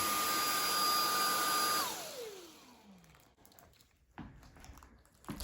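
A Samsung Jet 90 Complete cordless stick vacuum whines steadily on carpet, then its motor shuts off and winds down in a falling tone, followed by faint handling knocks.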